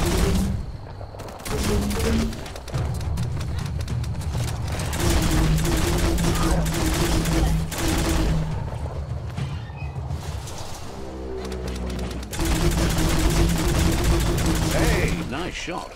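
Gunfire in the video game Biomutant, with bursts of shots repeating across the scene over a dense layer of game sound and occasional voices.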